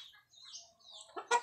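A gamecock rooster clucks in several short, soft calls at close range, ending in a louder, sharper burst of clucking, with no talk over it.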